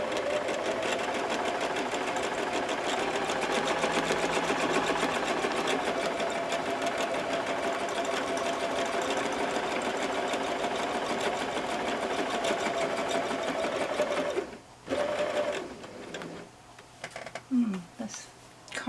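A sewing machine stitches free-motion quilting on cotton sample blocks with a steady, rapid mechanical chatter that runs continuously, then stops and restarts in short bursts near the end.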